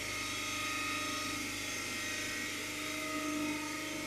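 A DC shunt generator spins at 1500 rpm with its field excited to about 220 volts, making a faint but steady machine hum and whine that holds even throughout, with no voices.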